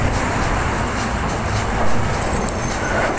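A train rolls slowly across the Bangabandhu Bridge, a steady dense rumble with a faint rhythmic clatter of wheels on the rails throughout, close and loud with no talk.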